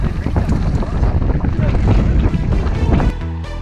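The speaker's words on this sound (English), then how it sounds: "It's wicked windy out here" Strong wind buffets the microphone on an exposed plateau during a mountain bike ride near Moab, a loud, steady roar that fills the clip and drops off sharply near the end.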